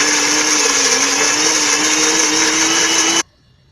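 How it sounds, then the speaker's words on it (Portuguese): A kitchen blender whirs loudly and steadily as it mixes chicken pie batter, holding a constant high motor whine before cutting off abruptly near the end and leaving near silence. "Vamos colocar tudo no liquidificador e bater."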